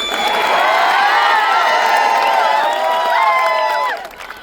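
At a protest rally in Sambhaji Nagar, a large crowd roars with cheering, high shouts and whoops for about four seconds before the noise suddenly falls away.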